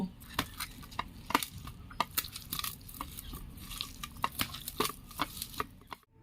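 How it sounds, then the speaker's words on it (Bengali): Chhena (cottage cheese) is kneaded by hand with mace, nutmeg and Kashmiri chilli powder, giving soft, irregular squishing and patting sounds close by, with a few sharper clicks scattered throughout. "এই সব উপকরণ দিয়ে আমি ভালো করে মেখে নেব"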